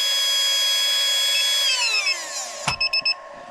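Brushed modified RC motor spinning on a dyno at about 32,000 RPM, a loud, close high-pitched whine that holds steady, then winds down in pitch as it spins down, ending with a few sharp clicks.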